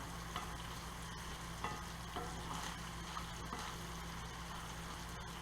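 Sausage for a quesadilla fries in a pan with a faint, steady sizzle broken by a few light crackles and pops. There is no talking.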